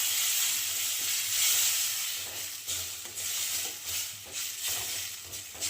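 Gravy hits a hot pan while cooking broccoli paneer sabji and sets off a loud, steady sizzle and hiss, with faint stirring pulses throughout and no talking.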